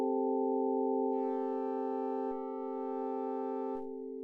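A steady electronic synth chord with a sine-wave oscillator modulating its amplitude, upper overtones shifting in level over a few seconds, giving a slow pulsing change in tone without any voices.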